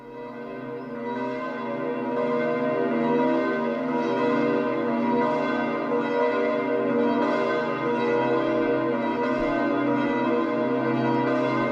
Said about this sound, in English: We hear the bells of St. Peter's now ringing.